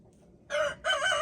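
A black hen and other chickens in a coop give two loud close calls, sharp crowing squawks following a quiet start, without any talk.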